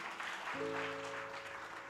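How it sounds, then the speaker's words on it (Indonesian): Clapping from an audience welcoming the New Year at an inspirational youth talk, a brief steady wash of hands under a held tonal sound that enters midway. "Ayo tepuk tangan semua."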